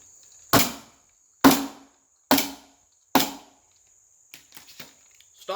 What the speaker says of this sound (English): Let's give this thing several good whacks on the table.